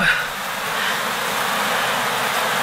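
Honey bees buzz around an open beehive during varroa treatment, a dense, continuous, fairly loud drone of many wings close by, with no talking.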